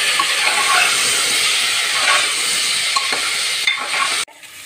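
Cauliflower, carrot and potato drop into a hot pan and sizzle loudly and steadily, with stirring scrapes, before the hiss cuts off abruptly near the end.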